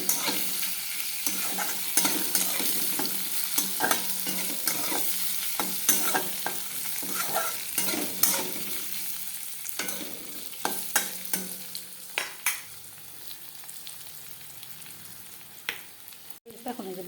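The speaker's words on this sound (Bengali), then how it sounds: "ভাজা ভাজা করে নেবো, তারপর মশলা দেবো।" Food frying in a pan with turmeric, salt, cumin paste and green chili, a steady sizzle under repeated spatula scrapes and taps in irregular bursts, close and moderately loud, fading slightly toward the end.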